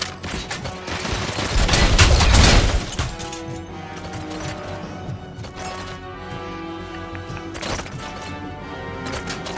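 Gunfire in the Robocop: Rogue City video game: a loud, dense burst of shots and crashes in the first few seconds, then scattered sharper shots and impacts over a lingering game soundscape.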